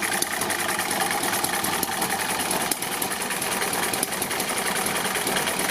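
A small hit-and-miss model engine, the Eachine ET7, runs steadily at close range with a busy mechanical chatter and a few brief irregular beats as it misses. No voices.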